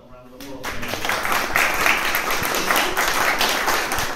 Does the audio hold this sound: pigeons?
no